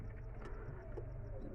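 Pigeons coo softly in a repeating, evenly spaced rhythm at a bird market where two male Chinese pigeons are among the birds, faint against a low murmur of background traffic and market noise.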